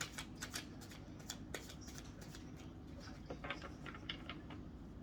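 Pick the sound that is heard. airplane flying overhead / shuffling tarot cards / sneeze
shuffling tarot cards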